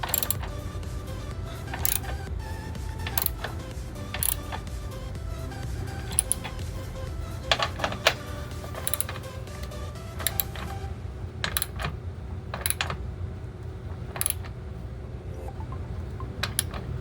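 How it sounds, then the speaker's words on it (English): Wrench working bolts while fitting a tow hitch to a 2018/2019 Honda Odyssey, a quiet run of short metallic ticks and clicks scattered irregularly over a low, steady background hum. "So I might have to use a regular wrench on this one right here."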